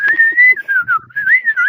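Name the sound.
person imitating whistling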